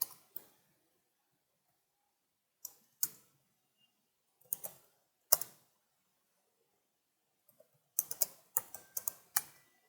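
Bursts of computer keyboard typing while entering Java code, with quick clattering key clicks in short clusters separated by silent pauses, close and fairly quiet with no talking.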